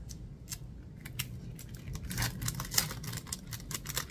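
A newly ordered package from an online shop being opened by hand, with quick crinkling, tearing and tapping of wrapping at close range, fairly quiet and without speech.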